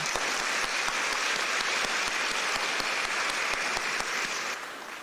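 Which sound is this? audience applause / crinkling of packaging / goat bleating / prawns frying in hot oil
audience applause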